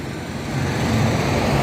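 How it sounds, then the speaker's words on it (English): A bus passes along a street in the Danube town of Hainburg, Austria, a broadband traffic rumble that builds and stays loud toward the end, with no one talking. "Oh, that's a bus."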